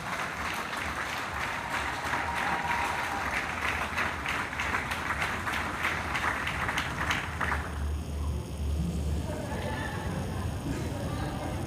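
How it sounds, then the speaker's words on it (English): A crowd at an FFA awards show at the Minnesota State Fair applauds steadily for several seconds, dense clapping filling the space, then it thins out and fades into room murmur. "One more round of applause."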